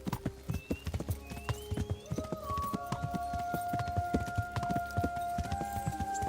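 Horse hooves clip-clop in a steady galloping rhythm in the medieval game Kingdom Come: Deliverance, close and distinct, with sustained musical tones running underneath.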